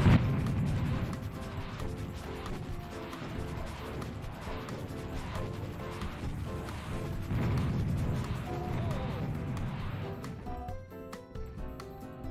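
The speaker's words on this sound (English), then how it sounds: "Just send as many rockets as possible until I kill him. Rockets away!" Rockets fire and explode in the shooter game Serious Sam: a dense, continuous barrage of loud booms and crashes rolling on without a break, with a thinner scatter of bursts at the very end.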